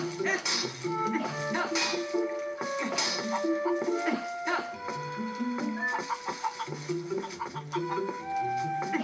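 Cluttered game audio from Zelda: Twilight Princess, in which chickens cluck in short repeated bursts against busy background music and effects at fairly steady loudness.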